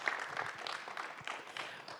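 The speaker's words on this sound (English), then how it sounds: "clap it up, yeah." An audience at a housing department listening session gives a brief round of scattered clapping. The applause is faint and distant throughout, with no talking.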